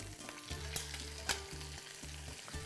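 Quails browning in a hot pan, a continuous close sizzle of frying with stirring and a few sharp crackles and pops, heard alone without talk.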